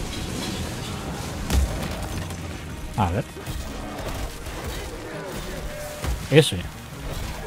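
Sharp explosive bangs from a firecracker in the video game Evil West, a few scattered pops and booms amid background noise, with a person talking over them.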